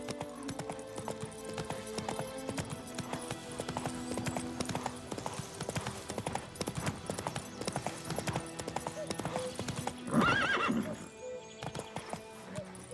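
A horse in The Witcher 3 clip-clops steadily under game music, then gives a loud neigh near the end as the hoofbeats stop.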